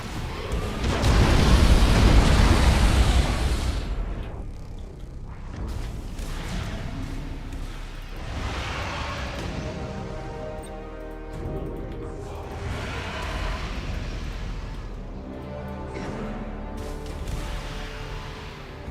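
Torpedoes explode in the space battle game Battlefleet Gothic: Armada 2 with Tyranid and Imperium fleets: a heavy, loud blast opens, followed by several rumbling booms and crashes that roll on with ringing tones.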